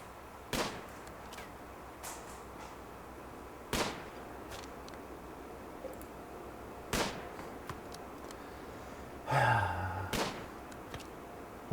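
Gunshots in the video game Rimworld: five sharp cracks spaced a few seconds apart over a steady background hiss, with a brief rumbling burst near the end.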